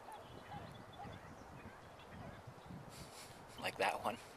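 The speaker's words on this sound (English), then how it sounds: "Get to hear birds that are making the most unusual sounds." Waterfowl out on open water give a few odd honking calls in a short burst near the end, following quiet lapping and faint ambient sounds from a small boat.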